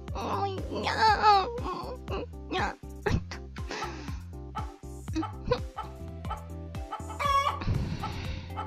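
Video game chicken clucking and squawking in rapid bursts, mixed with game music and a wailing voice over a busy, loud mix.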